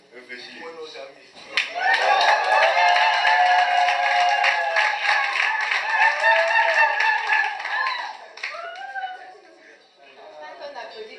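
Wedding guests clap together in a dense, sustained round of applause lasting several seconds, with voices talking and laughing underneath and the clapping tapering off near the end.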